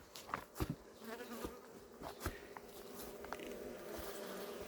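Honeybees swarm around a freshly opened hive during frame removal and expansion, a steady close-up buzz with individual insects zipping louder past the microphone now and then.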